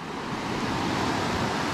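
Sea surf rolls steadily onto Kalapathar beach on Havelock Island in the Andaman Islands, a continuous broadband wash of waves on a clear morning, fairly close with no talk.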